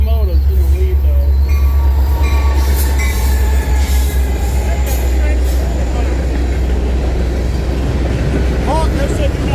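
A freight train led by two locomotives rolls steadily past close by, loud rumbling cars with wheel squeal, with a person talking over it.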